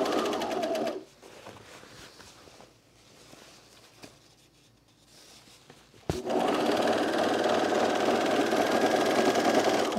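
A sewing machine top stitches pants fabric, running loud and steady at first, dropping away into quiet handling noises, then starting up again in a long continuous whir close by.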